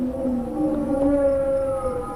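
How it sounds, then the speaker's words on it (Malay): An eerie, breathy hooting like air blown across the mouth of a glass bottle, a long, slightly rough tone that holds steady and swells gently, heard alone against a dark, empty background. "dia mendengar bunyi seperti bunyi orang meniup botol kaca"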